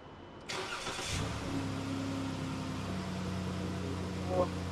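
A 2011 Dodge Grand Caravan's engine, just replaced, cranks and catches after half a second, then settles into a steady idle, fairly quiet and up close, with no talking.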